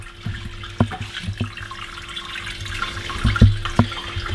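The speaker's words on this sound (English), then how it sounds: "this is just letting all the wort run off into the brew kettle" Homebrew wort for a rye IPA runs off into the brew kettle, a steady trickle and splash of liquid with occasional louder knocks and gurgles, close and without speech.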